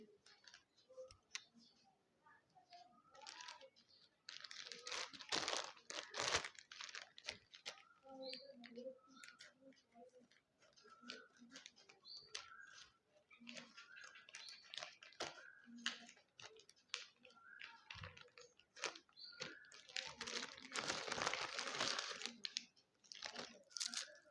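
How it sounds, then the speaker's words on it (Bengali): A small Flipkart parcel packet being opened, with close crinkling, tearing and rustling of plastic and paper that comes in irregular bursts and swells louder near the end. "এই ছোট্ট প্যাকেটটাতে কি আছে চলো তোমাদেরকে খুলে দেখাচ্ছি"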